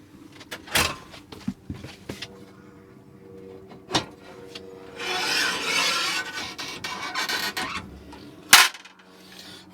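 A grill and oven part rattles inside an Autosleeper Duetto motorhome, making a few short clacks followed by a longer scraping, sliding rattle and then a final sharp knock, all close by and fairly quiet.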